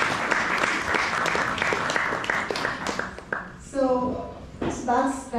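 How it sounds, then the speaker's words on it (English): An audience at a classical Indian music concert in Houston applauds in a dense patter of clapping for several seconds. The clapping then fades, and someone speaks into a microphone. "somebody wants to clap,"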